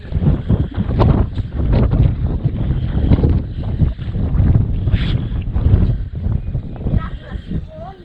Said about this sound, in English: The breeze picks up as we leave Northton behind us